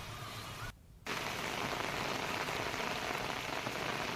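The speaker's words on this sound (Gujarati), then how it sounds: "તો હાલ પણ ધોધમાર વરસાદ ચાલુ છે।" Dense, steady hiss of heavy monsoon rain pouring on surfaces in Gir Gadhada, Gujarat, briefly cutting out for a moment before resuming just as hard.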